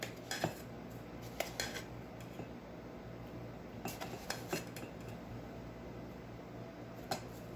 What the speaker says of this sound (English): And then what you gotta do is you just have to mix it